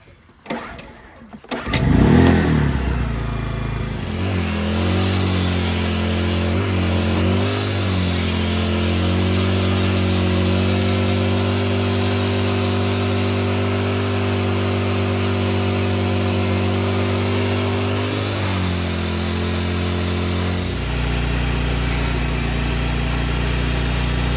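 A small pressure washer engine cranks and catches, then runs at a steady mid-pitched drone for about twenty seconds before the pitch shifts near the end, loud and close.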